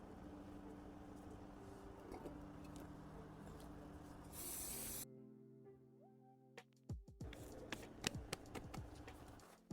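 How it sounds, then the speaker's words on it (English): Spray glue from an aerosol can hissing onto Ankara fabric for a bag, a steady quiet spray that cuts off abruptly, followed by faint handling and rustling noises. "I really love using spray gum. So then I will spray this side."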